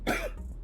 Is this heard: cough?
yes